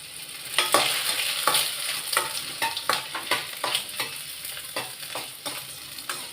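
Dried vathal vegetables fry in oil, crackling and sizzling with repeated sharp stirring scrapes in an irregular rhythm, close and fairly quiet, with no talking.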